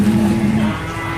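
A cow at the Tanah Merah livestock market in Bangkalan, Madura, lets out a short, low moo close by, which fades into steady market background noise.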